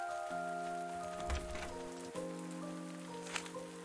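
Steady rain falling in the farming video game Pumpkin Days, a continuous soft patter running behind sustained musical tones with no talk.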